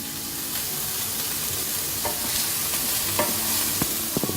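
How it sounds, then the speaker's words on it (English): Bacon fries in oil in a pan with a loud, steady sizzle and spitting. A few clicks and scrapes of stirring come through toward the end, and no voice is heard. "this needs to cook for 2 or 3 minutes until the bacon starts to turn golden"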